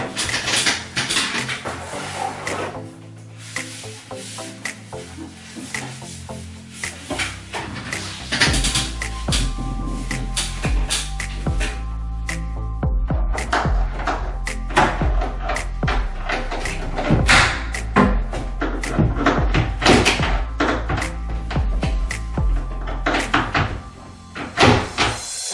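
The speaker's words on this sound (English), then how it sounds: "Now we can put the doors on." IKEA kitchen cabinet doors being fitted close up, with repeated wooden knocks, hinge clicks, thumps and clatter of doors opening and closing in an irregular rhythm, loud and near, with no talking.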